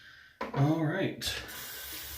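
Tap water runs into a bathroom sink for a moment while a face is wetted before a shave, a brief close splashing burst followed by a steady low hiss of flowing water.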